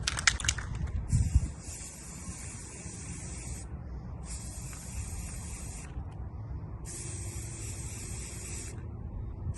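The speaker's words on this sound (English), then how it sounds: "and then I'm gonna spray the ends pink." Three hissing bursts of pink spray paint on tumbler ends, each lasting about a second and a half with short pauses between, close and fairly quiet after a brief rattle.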